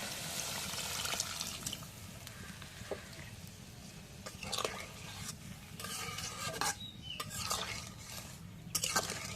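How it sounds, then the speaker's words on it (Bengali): Water goes into a pot of curry with soybean chunks and is stirred. Soft watery swishing runs under several sharper clinks and scrapes of a utensil against the pot, with no talking. "পানি দিই।"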